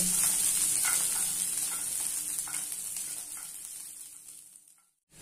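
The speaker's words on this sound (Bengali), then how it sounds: "কাজু কিশমিশটা একটু ভেজে নেব।" Cashews and raisins sizzle in hot ghee with a bright, hissing fry and occasional stirring scrapes, the sizzle fading toward the end before a brief cutoff.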